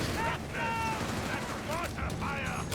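Machine gun fire bursts in a Company of Heroes 3 battle, rapid rattling volleys mixed with other combat effects and explosions, with a voice speaking over the fighting.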